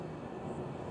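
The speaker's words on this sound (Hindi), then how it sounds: "बाहर से भी ये गाड़ी गुजरी है, इसकी आवाज़ आ रही है" A car passes outside while the listener sits in the cabin of a Suzuki Swift GLX CVT, and the sound reaches them as a low, steady muffled rumble through the modest sound insulation.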